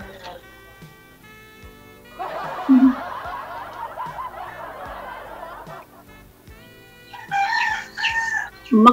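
A rooster crows once, a short crowing call rising over a quiet background, with people talking and laughing around it and a burst of louder voices near the end.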